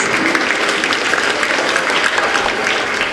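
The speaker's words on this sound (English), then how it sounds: "May I hear the thunder of applause for our brimming stars." Applause for prize winners at a school World Arabic Language Day event fills the hall as a dense, steady wash of many clapping hands, loud and sustained without pause.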